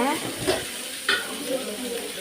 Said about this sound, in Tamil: வெங்காயம் நல்லா கலர் சேஞ்ச் ஆகணும், அது வரையும் வதக்குங்க